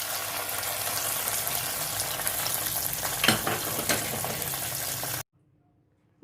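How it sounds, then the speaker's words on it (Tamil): Tempering of dried red chillies and curry leaves hits a yam buttermilk curry with a loud, steady sizzle that lasts about five seconds, then cuts off abruptly to near silence. No one speaks. "இப்போ தாளிச்சதை மோர் குழம்புல போட்டுக்கலாம்."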